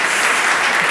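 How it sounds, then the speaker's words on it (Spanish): Brief burst of audience applause at a recognition event honoring women card makers, dense and loud clapping from a full room, steady for a moment without speech. "Les pueden dar también un aplauso, que esto siempre anima"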